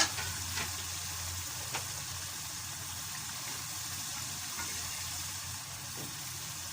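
Beef kofta frying in curry gravy gives off a soft, even sizzle that holds steady throughout, fairly quiet and with no voices.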